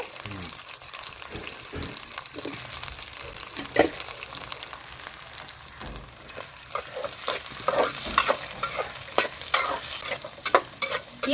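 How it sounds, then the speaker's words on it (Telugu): Hot oil sizzles and crackles steadily, with frequent sharp pops and spatters growing busier toward the end, plus occasional stirring scrapes. "కరేపాకు కూడా వేసుకుందాం ఇట్లే"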